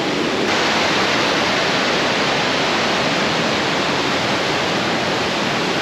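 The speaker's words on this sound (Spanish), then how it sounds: "la fuerza con la que viene el agua." Strong river water rushes near waterfalls on a tour of lagoons and cascades, producing a loud, unbroken roar of churning water that stays steady from start to finish.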